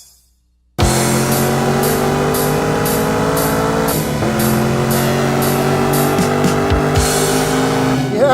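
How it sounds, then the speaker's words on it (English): A 2014 Nissan GT-R Track Edition at speed on a race track, its engine droning loud and steady from inside the car with a faint tire squeal, after a brief moment of silence at the start. "I think the GTR is making a lot of speed here."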